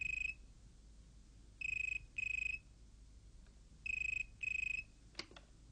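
A telephone rings in four separate double bursts at a steady pace, fairly clear against a low background hum, followed by a couple of faint clicks, with no one talking.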